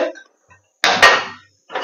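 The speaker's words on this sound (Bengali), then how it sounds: "একটি কড়াই বসিয়ে দিলাম" A metal kadai (wok) is set down on a gas stove, giving two quick, loud clanks with a short ringing decay. Faint voices are heard before and after.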